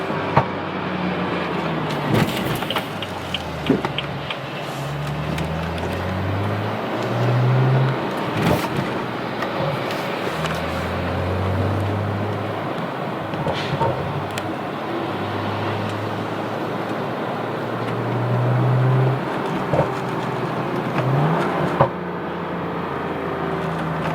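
Straight-piped BMW F32 with an M55 engine and a Vibrant resonator, heard from inside the cabin: a steady low exhaust drone with engine tones rising and falling through revs, continuous throughout.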